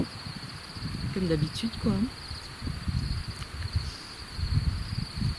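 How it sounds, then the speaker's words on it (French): Crickets chirring outdoors at night as a steady, thin high-pitched drone that runs through the whole stretch, under someone speaking French. "on a encore le son des grillons, des renards,"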